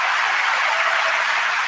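Applause from a very large crowd, a dense, steady wash of clapping that continues evenly for under two seconds with no talking.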